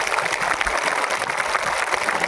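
Students and audience at a girls' high school welcome ceremony clap for their teachers, a continuous, fairly loud roar of applause with no speech over it.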